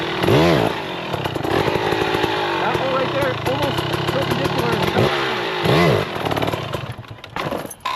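A motorcycle engine revs and drops repeatedly during wheelie practice, sharp rising bursts of throttle over a rough idle, with someone talking over the engine throughout.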